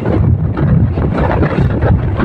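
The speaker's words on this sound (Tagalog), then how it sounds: "Mahangin." Strong wind outdoors on a walk between North Point and Tamar in Hong Kong, loud constant buffeting roar against the microphone with no pauses.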